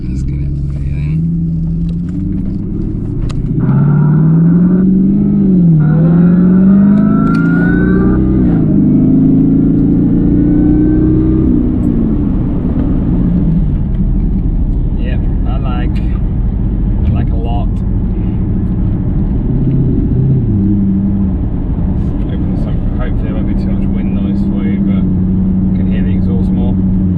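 Jaguar S Type R V8 exhaust with the valve open, revving up and settling back through a deep, loud rumble, with rising and falling engine pitch sweeps early on and a steady low idle drone afterwards.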